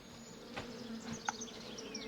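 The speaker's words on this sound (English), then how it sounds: "I hear the bees." Bees buzz softly in The Vale video game, a faint, thin drone with a few brief louder passes, alone without talk.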